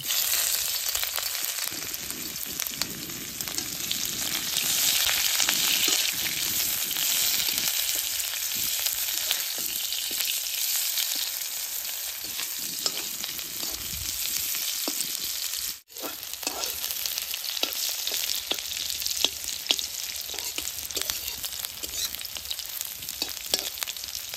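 Sliced onion fries in hot oil with spluttering cumin seeds in a pan, a continuous loud, close sizzle with occasional stirring scrapes, running unbroken apart from one brief dip.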